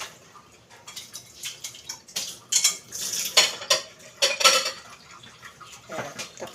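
A utensil stirs a pot of nilagang spareribs loaded with vegetables and kinchay, giving irregular metallic clinks and scrapes against the pot, close by and moderately loud.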